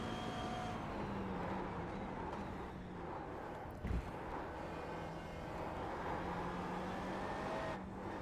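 A McLaren MP4-12C GT3 race car's engine in a racing video game, a continuous loud drone that rises and falls with throttle, plus one short thump partway through.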